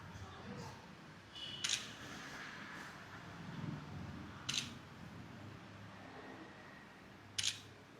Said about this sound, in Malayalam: നോക്കിയാ ഒരു ഫോട്ടോ എടുക്കട്ടെ